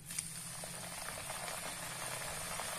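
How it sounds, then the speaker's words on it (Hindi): Namak pare dough pieces bubble and fizz in hot oil for deep frying over low-medium heat, a steady close sizzling hiss that stays even throughout. "तेल गर्म हो गया है, अब हम इस पे अपने नमक पारों को डाल देंगे।"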